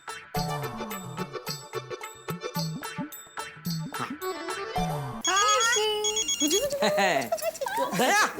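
A telephone rings in a household setting, repeated electronic ringtone bursts in a steady pattern, with a melodic tune and voices layered over it toward the end.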